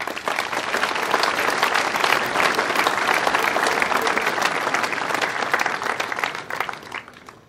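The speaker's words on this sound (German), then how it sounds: "Ein großes Applaus" Loud, sustained applause from an audience at the ceremonial opening of a fire station in Wallern an der Trattnach, steady for several seconds before tapering off.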